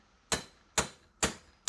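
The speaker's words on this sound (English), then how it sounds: "flatten the end with a ball-peen hammer" Three sharp metallic ball-peen hammer blows flattening a rivet on an anvil horn, evenly spaced about half a second apart, each with a bright ringing decay, a fourth beginning at the end.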